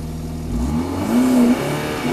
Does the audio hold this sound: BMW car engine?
yes